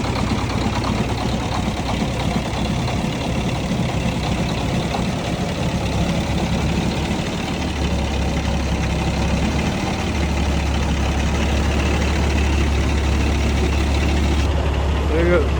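Kenworth W900B truck with a CAT C13 diesel engine idling just after start-up, a steady low rumble running throughout at close range with a slight shift partway through.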